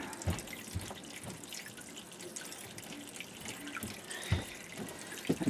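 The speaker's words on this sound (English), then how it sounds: "now we've got water running into our boat" Water leaks into a sailboat through a failing ceramic deep-sea seal, heard as faint trickling and dripping with a few sharper splashes and knocks near the end, quiet and close, with no voices.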